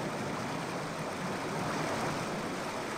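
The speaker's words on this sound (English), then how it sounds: "Oh, waterfall." A waterfall in the game Indiana Jones and the Infernal Machine gives a steady, dense rushing of water at an even, moderate level throughout, with no voices.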